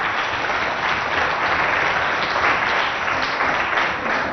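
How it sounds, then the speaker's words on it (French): Loud, sustained applause from a large audience honoring a jury member, a doctor, at a provincial talent competition event in Abéché, with dense clapping holding a steady level throughout. "je vais vous demander d'applaudir très fort pour Dr Kampele Magloire"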